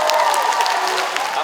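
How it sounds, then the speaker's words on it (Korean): Audience clapping at a Korean special lecture event, a dense steady patter of applause filling the room throughout, with some crowd noise mixed in. "박수 한번 치세요."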